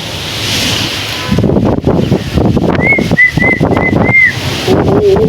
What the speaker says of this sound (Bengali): ও কি হাওয়া ভাই, লিটারেলি বৃষ্টি ছিঁড়ে পড়া হইতেছে